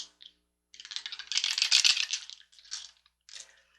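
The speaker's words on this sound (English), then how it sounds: "And let's get ready to roll that dice." Dice rattle and tumble across a surface during a tarot and astrology reading, with a short burst of clattering followed by a few lighter knocks, close and fairly quiet with no talking.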